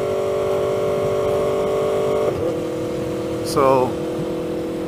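An Aprilia Tuono V4 motorcycle engine, just past its break-in service, idles with a steady hum, dips briefly, then gives a short rising rev near the end; a voice is heard faintly.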